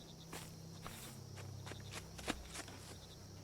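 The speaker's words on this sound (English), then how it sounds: "the sound of someone walking in the woods beside me still creeps me out" Footsteps crunch through woods in the video game Resident Evil 7, a series of soft irregular steps on leaves and undergrowth, close and quiet against a faint insect-like ambience.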